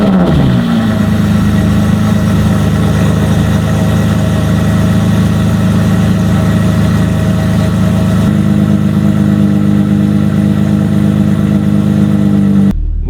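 An Aston Martin V12 Vantage S cold starts with a brief crank, then settles into a loud, close, steady idle with a deep rumble that shifts slightly in pitch partway through, no talk.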